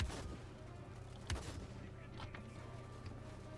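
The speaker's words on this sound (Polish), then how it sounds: "Znowu granat." A grenade goes off in the war game Land of War: a sharp blast opens, then a second thump follows about a second later, both low and muffled over steady background rumble, with a voice speaking alongside.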